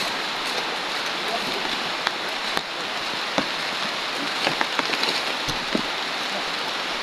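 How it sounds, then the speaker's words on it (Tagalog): Steady rain hisses down outdoors, a continuous wash of falling drops with a few sharper pattering ticks and brief knocks, and no voices. "Kasi umuulan na."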